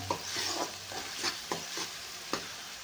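Quiet, continuous sizzling of spice tempering frying in hot oil for a brinjal dish, broken by several sharp spatula taps and scrapes at irregular moments.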